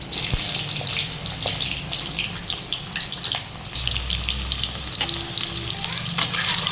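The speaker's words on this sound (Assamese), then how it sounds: "এতিয়া দি দিম পিঁয়াজ" Onions hit hot oil with dried chillies and bay leaves in a pan for a chicken dish, bursting into a loud, dense crackling sizzle, broken by scattered stirring clicks and scrapes.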